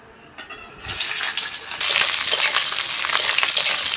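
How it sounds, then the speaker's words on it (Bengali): Capsicum hits hot white oil in a wok and fries lightly, starting as a soft hiss, then a louder, steady sizzle that jumps in strength partway through, close and continuous with no talking. "কড়াইতে একটু সাদা তেল দিয়ে, তেলটা গরম হয়ে গেছে, আমি একটু ক্যাপসিকাম গুলো হালকা করে ভেজে নিচ্ছি।"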